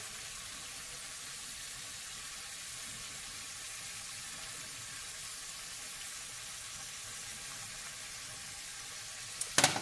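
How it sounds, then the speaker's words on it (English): Chicken seasoned with garlic powder and pepper frying in a pan, a steady, even sizzle holding at moderate level throughout with no talk, ending in a few brief clinks near the close. "I'm just going to let that fry"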